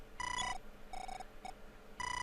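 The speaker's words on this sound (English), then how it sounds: "Seriously, answer the phone!" Telephone ringing in the NES game Earthbound Zero (Mother): a chiptune ring repeating in short electronic bursts with brief gaps, clear and alone.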